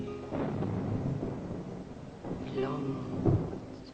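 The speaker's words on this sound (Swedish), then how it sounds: "Nu blir det åskväder." Distant thunder rolls as a low, sustained rumble during a storm, with quiet voices heard briefly over it.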